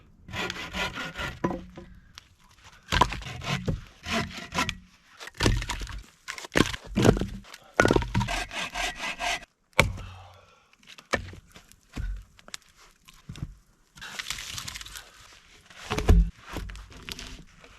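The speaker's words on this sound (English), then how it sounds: "Now I need to chop up some firewood." Firewood is cut up for an overnight outdoor fire, with repeated rough, woody strokes and cracks coming in irregular bursts separated by short pauses.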